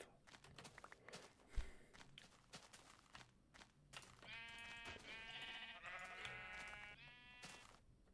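Sheep bleating in Minecraft Beta 1.7.3: blocky footsteps crunch along at first, then a long, wavering bleat sounds twice, fairly close and loud.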